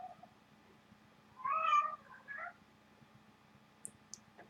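A house cat meows indoors, one drawn-out meow followed by a shorter second call, fairly close and clear over a quiet room hum, with a couple of faint clicks afterward.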